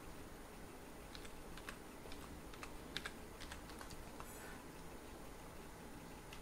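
Quiet, close typing on a computer keyboard, irregular clicks and key taps in short bursts while entering a spreadsheet formula, with no talk.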